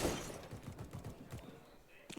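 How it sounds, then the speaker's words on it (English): Glass shatters in Counter-Strike on the map Cache during a professional esports match, a short breaking burst at the start followed by fainter thuds and clatter, with a commentator speaking over the game. "Break the glass for a potential execute of grenades later on."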